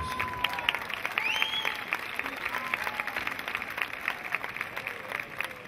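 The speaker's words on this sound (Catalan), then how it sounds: "Un fort aplaudiment per ells" An audience applauds a cha-cha-cha dance group at a summer exhibition, producing moderate steady clapping throughout, with a few faint whistles and crowd noise mixed in.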